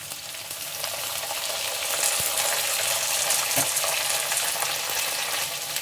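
Sliced onions fry in oil with browned chana dal and curry leaves, giving off a steady, dense, close sizzle with faint stirring taps and no voices.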